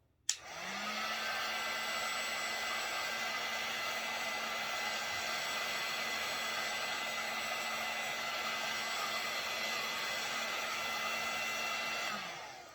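Heat gun or hair-dryer style blower warming the wax top of a marbled candle, switching on with a click, blowing in a steady, close whir for about twelve seconds, then winding down.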